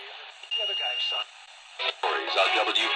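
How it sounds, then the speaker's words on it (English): AM band broadcast on a portable radio, a narrowband, tinny voice coming through with static and brief dropouts as the station tunes in. "Let's go to AM band, see what it sounds like."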